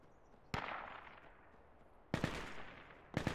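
A PKM machine gun fires in a video game. Three short, sharp bursts cut in loudly over a quiet background, each ringing out with a decaying tail.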